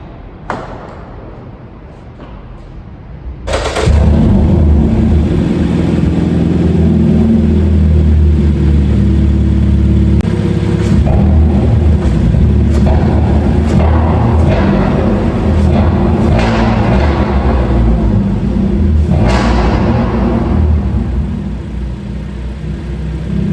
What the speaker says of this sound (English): I'm gonna go ahead and start it up again and